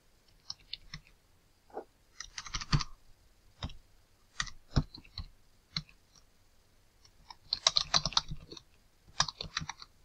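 Quick, irregular keystrokes on a computer keyboard, close and fairly quiet, coming in short bursts with a dense flurry of clicks near the end.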